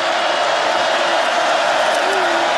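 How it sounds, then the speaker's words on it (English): Broad roar of a stadium crowd at a Michigan State Spartans versus Indiana Hoosiers college football game, steady and loud with no break. "Crowd is making some noise for the Spartans defense"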